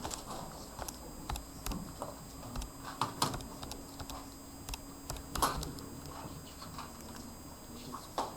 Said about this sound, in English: on your calculator, we'll go ahead and type in the original function